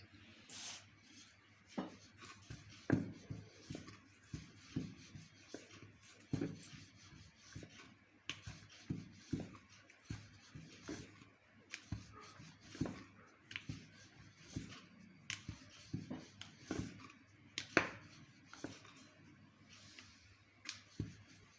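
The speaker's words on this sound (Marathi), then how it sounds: "आता आपले हे गोळे तयार आहेत, आपण त्याच्या पुऱ्या लाटून घेऊ।" Kachori dough balls being rolled out into puris with a rolling pin, a quiet series of soft rubbing and light wooden tapping sounds repeating irregularly against a board, close by with no talk.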